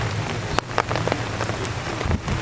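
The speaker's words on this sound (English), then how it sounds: "Don't mind the rain." Rain falls steadily outdoors during a Memorial Day ceremony, a dense hiss broken by scattered sharper drips and taps close by, with no voices.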